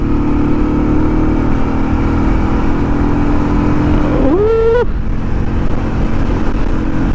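A Motorstar Zest 110 motorcycle on a test drive accelerates with a steady engine drone, then a short rising rev climbs sharply near the end before dropping back, close and loud throughout.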